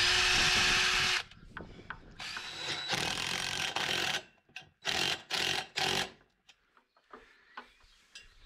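A power drill bores a mounting hole for a Starlink installation in several bursts, a long steady whir followed by shorter on-off spins, close and loud with quiet gaps between.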